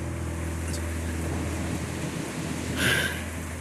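Steady rain falls in the Zenless Zone Zero video game, a constant hiss over a low hum, with a brief brighter burst of sound near the end.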